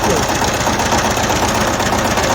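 A Shifeng 160 turbo intercooler tractor engine runs hard under load while pulling a Virax 2-25 plough, a loud, dense, rapid clattering drone that stays constant and close, with no speech.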